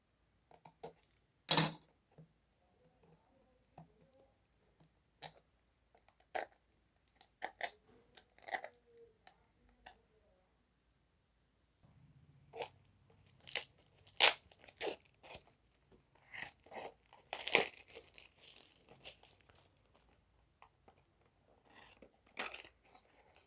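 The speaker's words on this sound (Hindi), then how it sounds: "अब मैं आपको खोल के दिखाता हूँ कि किस टाइप का है बल्ब" Packaging for a smart RGB LED bulb being torn and opened, with scattered crinkles, rips and handling clicks that grow busier and denser in the second half, fairly quiet and close, with no speech.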